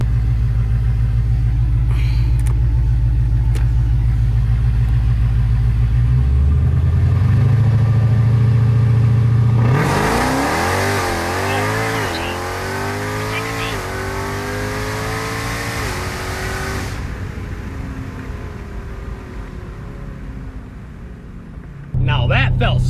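A 1000-horsepower Jeep Trackhawk idles with a deep rumble, then launches hard in first gear, its engine roaring loudly and climbing in pitch for several seconds before easing off, with a voice speaking over it.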